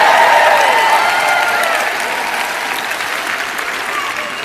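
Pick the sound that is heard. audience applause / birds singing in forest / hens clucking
audience applause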